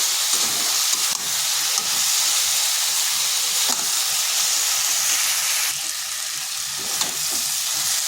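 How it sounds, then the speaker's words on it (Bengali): A paste of poppy seed, cashew and mustard sizzles and fries in a hot pan, with a steady hiss and occasional scraping stirs as it is cooked down. "দিয়ে দিচ্ছি যেটা পেস্ট করে রেখেছিলাম পোস্ত আর কাজু সর্ষে সেটা এরপর ভালোভাবে কষে নিচ্ছি"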